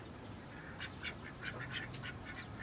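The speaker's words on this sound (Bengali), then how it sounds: "হাঁসগুলো ঘরে ঢুকে গেছে" Ducks quack in quick, faint bursts at some distance, calling over one another in short overlapping clusters against a steady background hiss.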